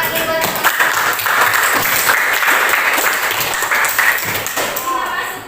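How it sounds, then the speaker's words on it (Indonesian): Brisk classroom applause from a group of university students, a dense patter of hand claps that stays steady and fairly close throughout. "Tepuk tangan nih buat"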